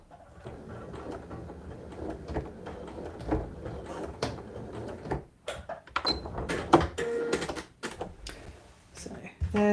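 Sewing machine stitching a fabric side pouch, with rapid mechanical needle clatter in short bursts and pauses, close and fairly quiet.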